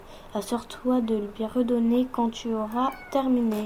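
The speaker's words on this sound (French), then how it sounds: "Désolée, c'est mon chat." A pet cat meows repeatedly indoors, several distinct drawn-out calls in quick succession, close and fairly loud, overlapping with someone talking.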